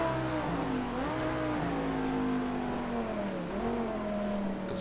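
Race car engine in Project Cars 2 during a Porsche Carrera supercar race, droning steadily with shifting pitch as it accelerates off a turn onto the straight, loud and continuous with no talk.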